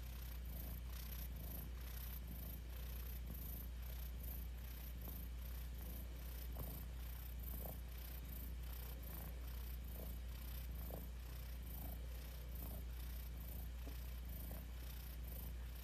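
A person imitates a cat's purr with the voice, a steady, continuous low rumble that holds for about sixteen seconds with no talking over it.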